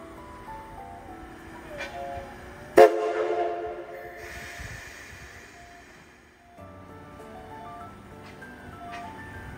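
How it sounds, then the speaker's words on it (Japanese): A steam locomotive sounds one sudden, loud whistle blast nearby, and it fades over about a second amid rumbling railway noise. Before and after the blast there is quieter mechanical humming from the locomotives. "大きな汽笛が炸裂しました。"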